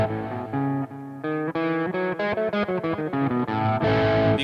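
Distorted electric guitar run through an effects unit plays a phrase in A Lydian, with sustained chords and quick note changes, loud and up front with no talk.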